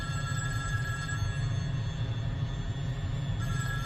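A telephone ringing in a film scene, a continuous electronic ringtone held over a dense low rumble throughout, loud and unbroken for the few seconds heard.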